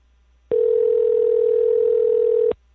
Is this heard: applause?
no